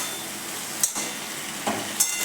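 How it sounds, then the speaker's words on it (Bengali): Bottle gourd greens being stirred with ginger paste in a hot pan: a steady low sizzle with a few sharp scraping clacks of the spoon against the pan. "শাকের সাথে আদাটাকেও ভালো করে মিশিয়ে নিচ্ছি"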